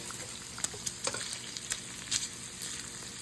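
Food crackling and sizzling on a home barbecue grill, a steady frying hiss with scattered sharp pops and spatters, close and fairly quiet, with no voices.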